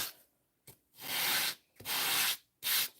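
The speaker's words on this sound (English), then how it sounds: "All you did was just dry emboss it with an embossing folder and then sand it." Dry-embossed paper being sanded by hand, three long rasping strokes with brief pauses between them, close and steady with no voices.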